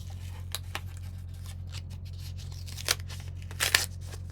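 Adhesive backing peels off a chipboard piece in a quiet room, giving a few short, soft crackling rips with light handling noises between them.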